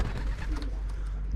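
Racing pigeons coo softly in a stock loft, a low steady murmur over a constant rumbling background, heard close with no speech.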